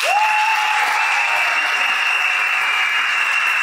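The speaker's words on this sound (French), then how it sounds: "Je souhaite à nous un tonnerre d'applaudissements pour les futurs mariés." Sustained, dense applause from wedding guests for the bride and groom at a civil wedding in Gabon, loud and steady throughout without a break.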